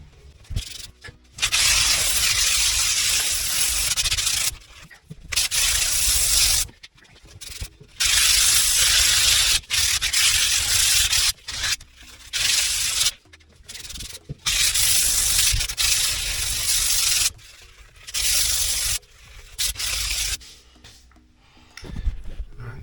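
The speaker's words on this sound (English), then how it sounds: "I'm going to use some 180 grit sandpaper. I'm going to smooth this right off." Hand sanding with 180 grit sandpaper smoothing a repaired hole in a bath: loud, raspy rubbing strokes in bursts of a second or two, separated by brief pauses, close up.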